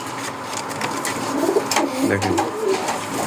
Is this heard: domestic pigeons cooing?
yes